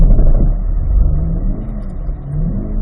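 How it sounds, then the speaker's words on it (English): A Chevrolet C8 Corvette engine roars at wide open throttle during a donut, a loud sustained rev close by with the pitch wavering slightly as the car spins, no voices. "You can whack the throttle, hold it wide open until we're facing this direction"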